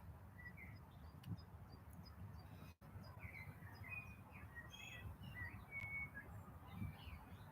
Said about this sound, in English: Digging the songbirds. Can you hear them?